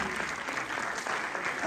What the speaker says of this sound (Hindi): एक बार और तालियां बजाइए जोरदार